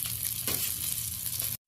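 Bhetki fish pieces frying in hot oil until reddish, a steady close broadband sizzle that holds evenly and then cuts off abruptly, with no voices.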